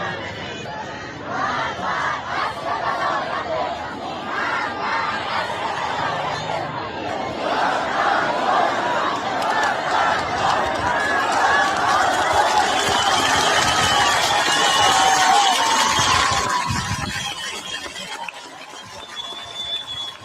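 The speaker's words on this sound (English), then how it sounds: "And here they're chanting Magbar Khomeini." Large protest crowd in Iran chanting "Death to Khomeini" in loud rhythmic unison, many voices rising and falling together, the chant swelling then breaking into scattered shouts near the end.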